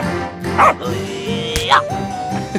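A dog in the Roblox Brookhaven game gives two short, loud yips a second apart, set against steady background music and game sounds.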